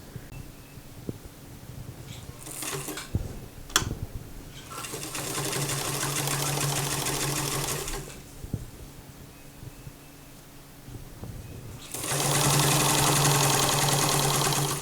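Sewing machine stitching fabric strips onto a McCalls 8212 housedress top, running in two steady bursts, the second louder and longer, separated by quieter handling noises and small clicks.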